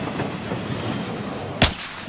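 A single sharp gunshot in the video game Warzone, loud and abrupt, cutting through a steady rumbling in-game background with no talk.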